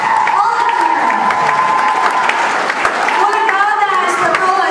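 A concert audience applauds loudly and steadily throughout, with crowd noise and some cheering, while voices carry over the clapping.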